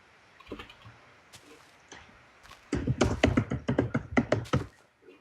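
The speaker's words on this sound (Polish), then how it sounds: "Weź tak nie napieprzaj w tą klawiaturę" A computer keyboard is hit hard during a Minecraft session: sparse clicks at first, then a fast, loud flurry of clattering keystrokes close to the microphone.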